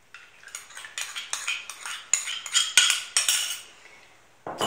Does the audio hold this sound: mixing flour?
yes